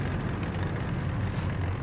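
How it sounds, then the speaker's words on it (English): Panther F tank engine in War Thunder realistic battles, a constant low rumbling drone with a steady mechanical hum and no distinct changes, heard alone without talk. "This engine sounds like PT-76."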